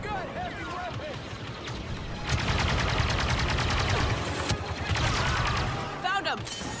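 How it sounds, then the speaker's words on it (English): Rapid bursts of blaster and gunfire from a Star Wars Battlefront 2 campaign battle, sustained loud fusillades with a voice talking over parts of it. "Stay here and lay down cover fire"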